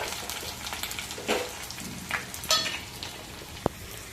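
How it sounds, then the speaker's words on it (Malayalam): Onion, dried red chillies and curry leaves frying in hot oil with mustard and fenugreek seeds, giving a soft, steady sizzle with a few crackling spurts and one sharp pop near the end. "ഉള്ളിയും വറ്റൽമുളകും കറിവേപ്പിലയും ഇട്ട് നമുക്ക് പൊട്ടിച്ചെടുക്കാവേ"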